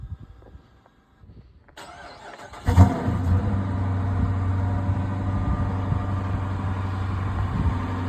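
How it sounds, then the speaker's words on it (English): A 2012 Dodge Charger R/T AWD with a HEMI V8, 218,000 miles and replaced cam and lifters, cranks briefly and fires, settling into a steady, close, rumbling idle after a quiet lead-in of clicks. "So let's go ahead and start it up."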